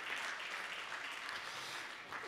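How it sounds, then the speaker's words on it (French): A seated audience applauds panel guests at an evening round-table on hydrogen strategy, with a steady, dense wash of clapping that holds at an even level throughout. "On vous applaudit, messieurs"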